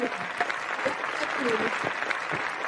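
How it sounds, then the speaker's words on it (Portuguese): Round of applause in a podcast studio, steady clapping throughout with some voices and chatter underneath. "Olha aí, uma salva de palmas."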